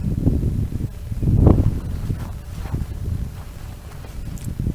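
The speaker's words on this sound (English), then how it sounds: "It's very windy. Very windy day today." Steady low wind buffeting and rumbling against the microphone on a homestead with fruit trees, with rustling gusts that swell and fade, no voices.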